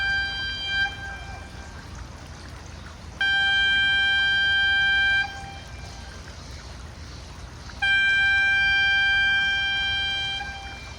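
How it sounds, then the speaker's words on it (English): Two long, loud air horn blasts giving a five-minute warning before blasting, with a steady tonal drone, separated by a pause, over a quiet outdoor background. "you'll hear an air horn blast. That's the 5-minute warning."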